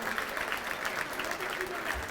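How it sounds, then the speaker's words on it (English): A dinner audience at a 2022 Border Patrol Foundation gala in Washington, D.C. gives a round of applause, a steady, dense clapping that fills the room for the full two seconds without letting up. "How about a round of applause for everyone that's come up here tonight?"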